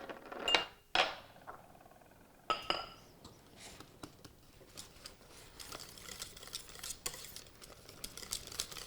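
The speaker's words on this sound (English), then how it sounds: "We do need to give it a good whisk" A mixture being whisked in a bowl during a cooking demonstration, with quick light clinks of the whisk against the bowl after a few louder knocks, fairly faint and close.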